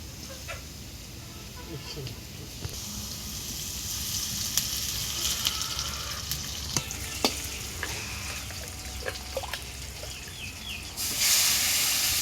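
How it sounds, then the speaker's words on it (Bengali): Food sizzles and crackles steadily in a pot, with scattered sharp pops and faint voices in the background. "মুরগির মাংস চড়াইতেছে"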